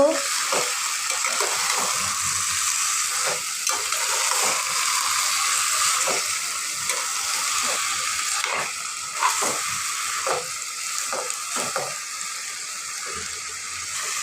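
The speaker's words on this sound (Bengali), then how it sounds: "এখন আলু ও লতিটাকে ভালো করে মশলার সাথে মিশিয়ে নিব" Steady frying sizzle as potato slices and taro stems are stirred with spices in a pan, with repeated soft scraping strokes of the spoon, close and continuous.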